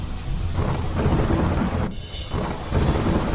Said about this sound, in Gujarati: ગાજવીજ સાથે વરસાદ થતા